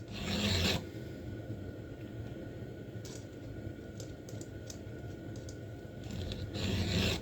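A carving chainsaw chain being hand filed, the file rasping in steady continuous strokes at close range, loudest at the start and end, with no talking.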